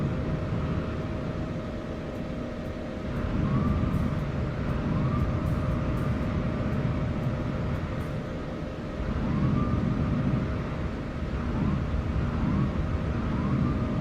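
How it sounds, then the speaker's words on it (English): A jet engine on a Breeze Airways A220-300 at an airport, a loud continuous roar that swells and falls repeatedly, rising and easing like a leaf blower, with no talk over it. "What is that airplane accelerating, decelerating? Sounds like a leaf blower"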